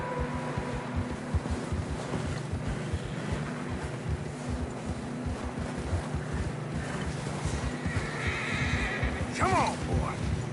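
Horses whinnying and plodding through fresh snow on a narrow mountain path in a PS4 game, a steady muffled trudge of hooves under wind, with a sharp neigh near the end.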